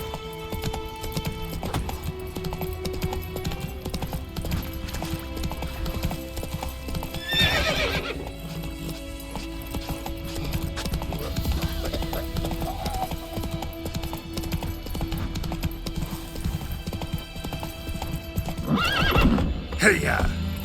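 Roach, the horse in The Witcher 3, gallops with a constant rhythmic clip-clop of hooves, broken by loud neighs and whinnies, while game music and voices run underneath.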